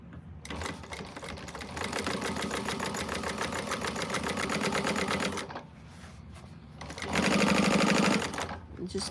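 A sewing machine runs in long steady bursts of rapid needle chatter, pausing briefly before a louder, faster run as the side of a quilted fabric cactus is stitched shut.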